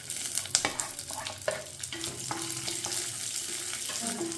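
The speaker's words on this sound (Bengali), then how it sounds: "এগুলোকে আমি সব একসাথে ভেজে নেব।" Chopped almonds, cashews, raisins and pistachios frying together in ghee, a continuous close sizzle with frequent scraping and clinking of a spatula stirring them in the pan.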